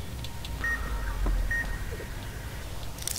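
Electronic beeping from a trap in Fallout: New Vegas, a couple of short steady tones repeating against a low game ambience, fairly soft.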